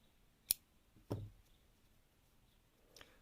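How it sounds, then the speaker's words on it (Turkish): Crochet yarn is snipped with scissors while a mesh hair clip is being made: a sharp click, then a short crisp cut, and a faint click near the end, all quiet and close. "Bir zincir çekip ipimi kesiyorum."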